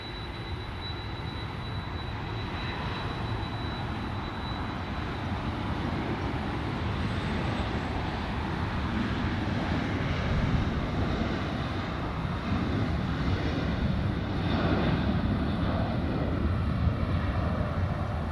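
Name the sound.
Alaska Airlines jet taking off at LAX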